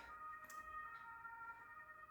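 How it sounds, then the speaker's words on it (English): Ambulance siren heard faintly as steady tones under a low background hum, sustained across the short stretch without a clear rise or fall. "let the ambulance through"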